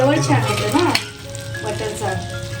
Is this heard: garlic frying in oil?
yes